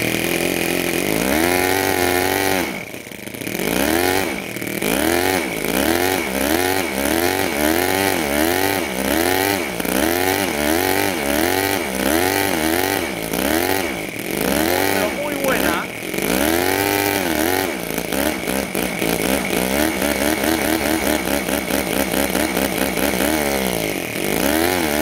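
A home-built 7cc two-cylinder mini Otto engine buzzes nonstop at close range. Its pitch sweeps up and down over and over as the throttle is blipped between idle and full, like a small chainsaw.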